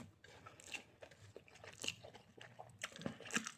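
Crunchy chewing and biting on rice eaten with fried onion stalks, close and fairly quiet, with soft irregular mouth sounds and small crunches spread across the moment, no talking.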